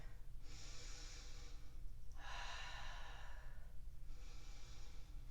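Slow, deep breaths during a yoga flow practice, three long airy exhalations swelling and fading in a steady rhythm, close and fairly quiet over a low background hum.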